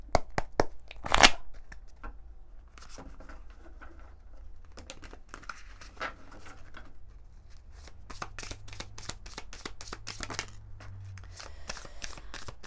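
Oracle cards being shuffled by hand, soft rapid riffling and flicking in short bursts with a sharper snap near the start, close and fairly quiet with no talking.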